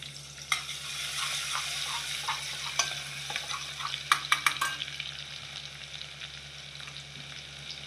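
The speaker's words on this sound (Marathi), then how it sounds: "आता आपला तेल गरम झालेला आहे. तर पहिला आपण लसूण टाकूया" Garlic hits hot oil with an immediate loud sizzle that settles into steady frying, with a quick burst of utensil clatter partway through, in a home kitchen cooking goat tripe masala.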